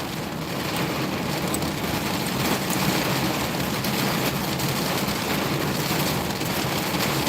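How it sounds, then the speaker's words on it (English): Heavy, loud rain falls steadily throughout, a dense continuous hiss and patter with no breaks and no voices. "This rain is loud."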